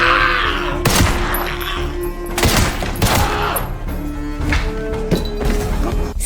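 Several loud gunshots go off in quick irregular succession at a gas station, sharp bangs with crashing echoes, close and forceful.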